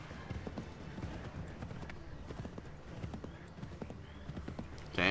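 Horse hooves galloping in Assassin's Creed 3, a steady, fast clip-clop rhythm under a constant low rumble, moderately loud throughout.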